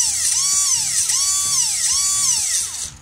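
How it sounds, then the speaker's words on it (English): An airsoft AEG electric motor on a 7.4V LiPo, wired straight and hand-held, whines at a high pitch in repeated rising and falling bursts of roughly half a second, then spins down at the end. "I'm going to hold onto the motor so it doesn't jump around."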